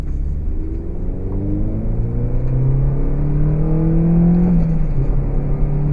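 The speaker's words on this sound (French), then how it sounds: "moi ce que j'adore c'est le bruit de la voiture." A Renault Clio 3 RS 197 engine revs and climbs in pitch, a loud, close, throaty drone that rises steadily and settles at a high whine.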